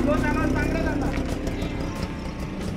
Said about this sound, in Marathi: रिक्षा स्लो चालवायला सांगा.